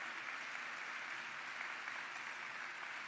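A convention audience at a National Council of La Raza speech applauds, producing a faint, even hiss of many distant hands clapping continuously without break.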